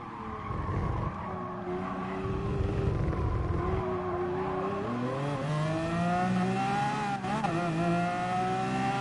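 A Lamborghini Aventador LP 700-4 races in Gran Turismo Sport, its engine climbing and shifting through gears with a loud, continuous high whine and tire squeal through corners.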